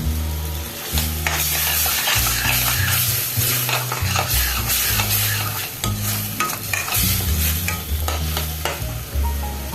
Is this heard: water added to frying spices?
yes